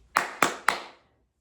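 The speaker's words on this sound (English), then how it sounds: "I will let you know when to launch by clapping my hands 3 times." Three sharp hand claps in an evenly spaced rhythm, close and loud, given as a launch signal during a classroom catapult-building lesson, each clap fading quickly before silence.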